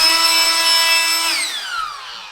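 A Ryobi 18V cordless high-volume inflator blowing air across a workbench gives a loud, steady whining motor tone with a hiss of air. The pitch drops away after about a second and a half as it winds down.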